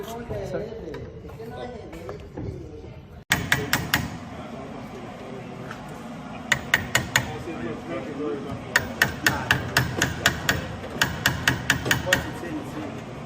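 Sharp metallic hammer blows strike a part of a 1965 Chevrolet Impala convertible in quick clusters of three or four, repeating over and over, with background noise and occasional voices between bursts.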